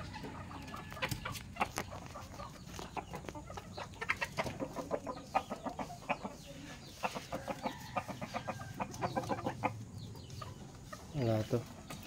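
Chickens at a farmyard, a bantam hen and a rooster, clucking repeatedly in irregular bursts close by, with a person talking intermittently and a brief louder cackle near the end.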